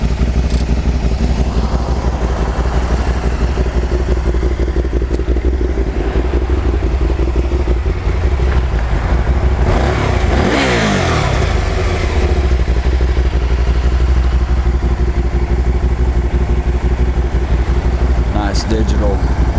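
A Can-Am Spyder RS-SM5 three-wheeled motorcycle with 5,551 miles runs steadily and loudly nearby, with a brief rev partway through, while someone talks over it.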